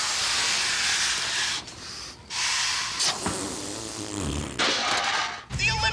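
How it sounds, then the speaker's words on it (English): Air rushes out of the inflated balloon on a balloon-powered toy car, a loud close hiss in several long bursts with short breaks between them. "The important part is to blow up the balloon so you get the thrust."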